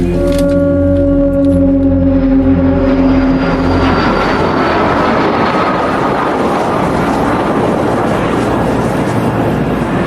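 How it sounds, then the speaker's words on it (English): An airplane takes off, its engines roaring loud and continuous from inside the cabin, a steady broadband rumble building and holding with no voices over it. "Anyway, we're about to take off."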